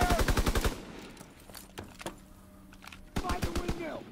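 A rapid burst of machine-gun fire from a WW2 shooter video game opens loudly, followed by quieter scattered shots and another burst near the end, with game voices in between.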